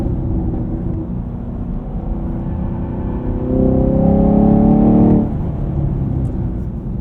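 A Chevrolet Camaro SS 1LE engine drones steadily while driving on old winter tires, swelling into a stronger, rising note for a couple of seconds before settling back to a cruising hum.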